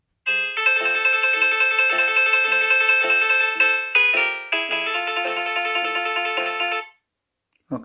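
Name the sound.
different ringtone played at max volume on Samsung Galaxy S8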